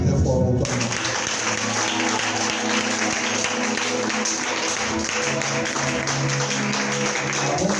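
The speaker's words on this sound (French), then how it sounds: "Acclame très fort pour toi." A church congregation breaks into loud, sustained applause that fills the room, steady clapping from many hands with a murmur of voices and music under it, lasting several seconds.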